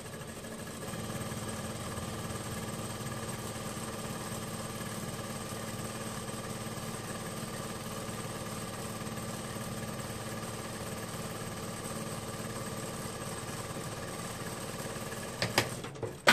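A sewing machine runs close by in one long, steady mechanical whir while stitching a raglan sleeve. It stays alone at an even level and ends with a few clicks and knocks.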